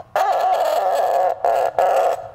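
A cup-and-string friction noisemaker gives loud, strident clucking squawks like a chicken, one long sustained rasp followed by two shorter bursts, close and alone.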